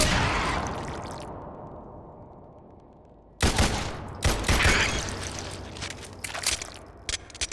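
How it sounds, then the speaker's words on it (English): A grenade blast in the video game Subsurface Silicon: a long decaying explosion rumble that fades out, then a sudden burst of sharp crackling gunfire-like bangs and impacts, loud and close. "Just gonna throw another grenade"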